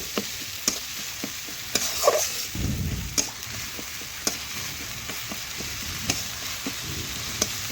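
Spice paste of ground pepper and ginger with onions frying in a pan for chicken curry, with repeated sharp scraping strokes of stirring over a low sizzle.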